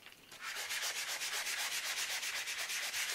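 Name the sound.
sanding paper with a snow block sanding block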